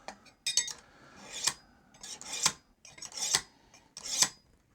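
A knife blade is drawn through a handheld sharpener in short, scraping strokes, about five distinct rasping pulls with brief pauses between them. The strokes sound close and fairly quiet.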